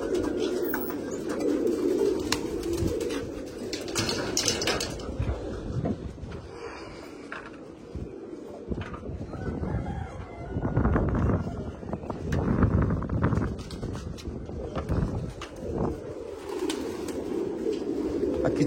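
Pigeons coo continuously in a large pigeon loft in Kolkata, overlapping calls swelling and fading over about eighteen seconds, with light wind noise on the microphone.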